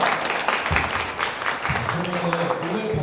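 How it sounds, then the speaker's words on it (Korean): An audience at a lecture on garden plant trends claps steadily after a talk, a dense wash of applause mixed with voices throughout. "다시 한번 박수 부탁드립니다"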